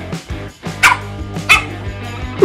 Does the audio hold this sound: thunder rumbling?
no